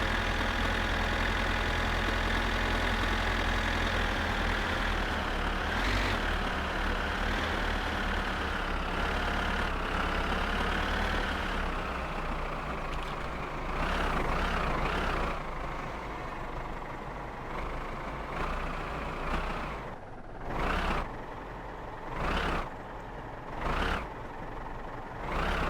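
A video game car engine drones steadily at mid pitch, its tone rising and falling slightly, with a few sharp bursts of noise near the end.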